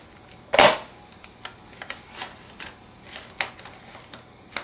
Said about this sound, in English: Fold those creases.